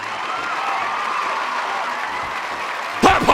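Audience applause sound effect, a steady wash of clapping from a crowd that runs throughout, with a brief voice cutting in near the end.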